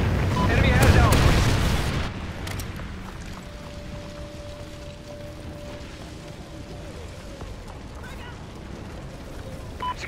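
A Trinity rocket strike in an online shooter game lands as a loud, close boom with a rumbling burst in the first two seconds, then fades into a low tail with quieter background game sounds.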